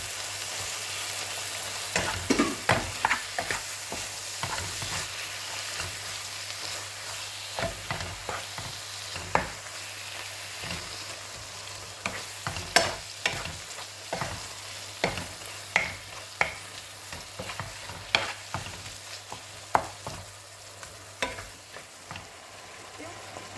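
Minced meat frying in a pan with softened vegetables for stuffed courgettes, a low steady sizzle broken by frequent irregular clicks and scrapes of stirring throughout.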